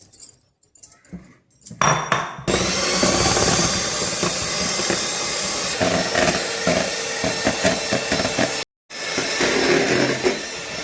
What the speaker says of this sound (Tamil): நான் பிளண்ட் பண்ணி எடுத்துக்கிறேன்